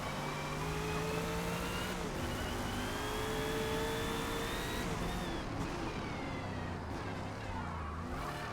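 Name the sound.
McLaren car engine in Forza video game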